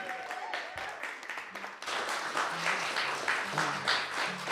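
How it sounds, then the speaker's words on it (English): An audience at an open mic night bursts into loud, sustained applause with clapping building after a quieter opening, and a few whoops rise over the crowd. "Round of applause for John Gilroy there."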